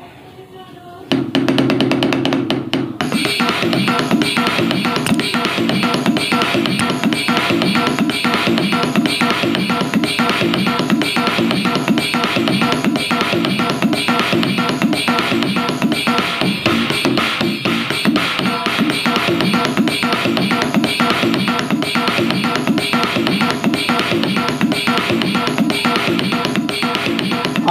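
Roland SPD-20 Pro electronic percussion pad playing a dense, steady percussion pattern with fast repeated hits, loud and continuous after a brief quieter opening.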